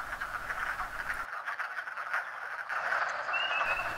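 Wood frogs and spring peepers call together at spring vernal pools, a dense steady chorus of croaks and trilling peeps, with a clear high whistled peep rising near the end.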